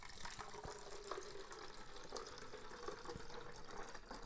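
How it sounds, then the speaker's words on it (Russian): Potassium fertilizer solution for orchids pours into a sprayer in a steady, faint trickling stream with small splashes throughout, heard up close with no talking. "Все, я наливаю."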